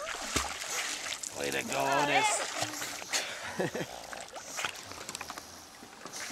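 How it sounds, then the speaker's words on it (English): A small pug paddles through water, making soft splashes and sloshing that run beneath people cheering and talking nearby. "He just has to swim further than most dogs because he's so small."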